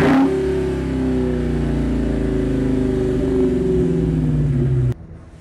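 A 2021 Dodge Hellcat Redeye muscle car engine revs loud and close, a deep sustained roar with a slowly falling pitch that cuts off abruptly near the end.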